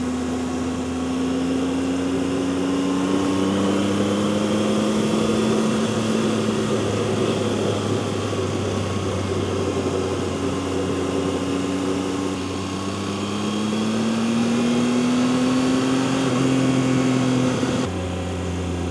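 Motorcycle engine revving up on a mountain road, a steady loud drone with rising and falling pitch sweeps as the throttle opens, heavy wind rumble underneath, running continuously without speech.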